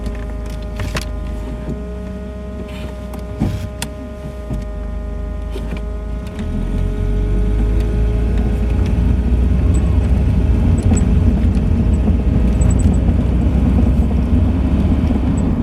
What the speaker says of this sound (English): this is also the gearbox that goes a-woo, which is quite fun